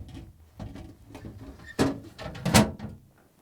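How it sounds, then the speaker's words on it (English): A Kenmore refrigerator's plastic snack pan slides onto its rails, with soft scraping and two sharper plastic knocks as it seats, close up and with no talk. "Simply slide it onto the rails."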